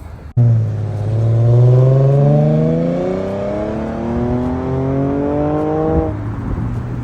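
A car engine revs up loudly and rises in pitch as it accelerates away, then cuts off abruptly near the end.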